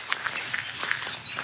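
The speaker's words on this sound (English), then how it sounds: "can you hear the birds singing?" Faint high chirps and whistled bird calls drift through open outdoor air at a campsite, thin tonal streaks repeating over a soft steady background hiss with no voices.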